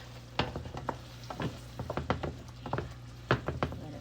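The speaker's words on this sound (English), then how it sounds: "Let it cook down. We want those onions to soften just a little bit." Onions soften in a pan for shrimp mofongo, quiet scattered stirring scrapes and clatters over a low sizzle, close but fairly faint, with no speech.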